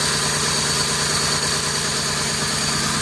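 A vehicle engine runs at a steady idle after being restarted, a continuous close, even rumble with constant vibration and no voices over it.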